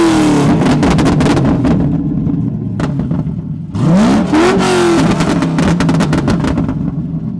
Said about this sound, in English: he's loading up the BMW Burble tune on his Corvette